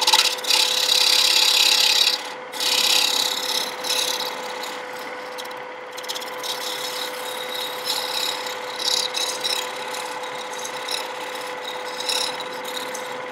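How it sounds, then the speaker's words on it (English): A steel scraper cuts across a wooden plate spinning on a lathe, giving a continuous raspy scraping, louder for the first two seconds, then steady and somewhat softer with small surges as the tool moves side to side. "Then I would keep cutting with this scraper on across and eliminate this middle section."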